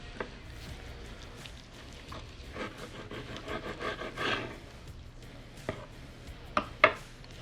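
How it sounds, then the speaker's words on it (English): A knife works through a large smoked beef dino rib with quiet, soft cutting and scraping strokes, ending in a few sharper taps near the end. "I think I'm gonna slice off this nice big beef rib right here"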